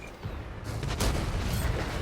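A heavy IS-7 tank cannon shot in World of Tanks, a booming low blast that swells into a loud sustained rumble with crackling echoes, heard up close with no talk.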